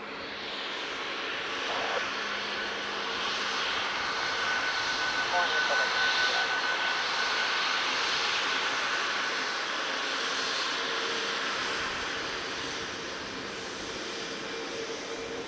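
A Boeing 747-8 passes overhead at Dublin Airport, a broad steady jet roar that swells gently and holds for the whole stretch, with faint radio-style talk murmuring underneath.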